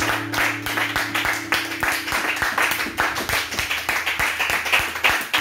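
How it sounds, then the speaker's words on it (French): A church congregation applauds in rhythmic, steady clapping, many hands beating together in a lively, sustained pattern close by, with a faint voice underneath. "Applaudissons alors."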